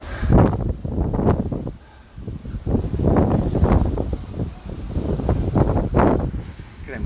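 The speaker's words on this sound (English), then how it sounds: "Oh, what a windy day." Strong wind at the seaside buffets the microphone in loud, gusty bursts, with a brief lull near the two-second mark, and waves are likely somewhere beneath the roar.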